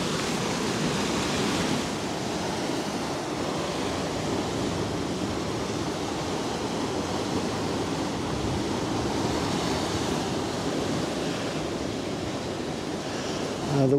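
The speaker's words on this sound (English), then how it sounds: "Now the waves just aren't as savage as they were yesterday" Ocean waves roll onto a beach in a steady, continuous surf wash without voices, the breaks fairly mild rather than heavy.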